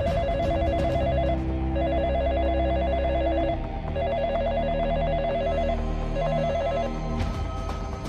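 A telephone bell rings in repeated, evenly spaced bursts, loud and steady over a busy musical background, then stops near the end.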